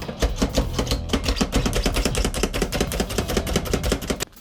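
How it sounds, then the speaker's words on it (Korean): Onion being minced with a hand-operated Daiso chopper, giving a fast, steady run of sharp clacking chops close up that continues without a break. "이걸로 양파 다질 수도 있어요"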